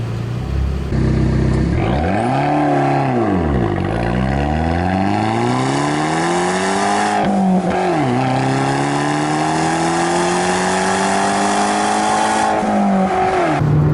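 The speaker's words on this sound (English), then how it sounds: "It'll tell you to shift and then it'll shoot a flame out the back" A 2013 Fiat 500 Abarth engine revs hard under acceleration, its pitch dipping at each shift and then climbing steadily toward high RPM. It stays loud and close throughout, with no talking.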